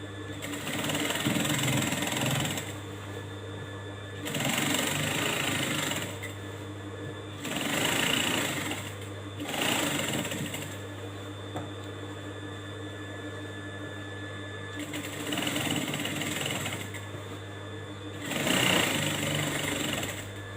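Sewing machine stitching two rows back and forth along a side seam, a steady close mechanical whir running in repeated bursts with short pauses between, no talk.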